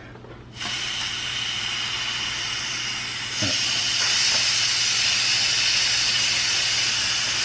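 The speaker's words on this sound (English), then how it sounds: "I'm gonna push this red button on the top to release whatever steam might be in there still" Steam hisses steadily from the release valve of a DEENKEE 10-in-1 electric pressure cooker after its red button is pressed, a loud continuous rush that starts abruptly and swells slightly partway through, with a faint click.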